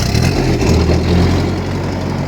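Small engine on a cheap refurbished tractor running steadily with a low, mid-pitched rumble and slight revving, close and loud with no talking.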